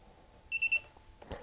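Electronic beep tones from an RC transmitter during stick remapping for a FlyZone F4U Corsair Tx-R model: a pair of short, clear high-pitched beeps close together, followed by a faint click, with no talking.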